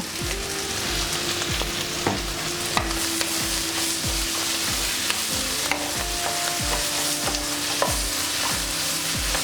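Steady sizzling of cabbage and tamarind frying in a pan, close and loud, with regular scraping and clinking of a spatula stirring throughout.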